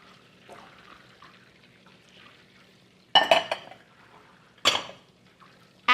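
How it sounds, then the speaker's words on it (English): Carrots, celery and red potatoes dropping into a pot over browned meat, heard as two sharp clattering bursts of vegetables hitting metal amid soft quiet kitchen background. "I'm going to add in my carrots, my celery, my red potatoes"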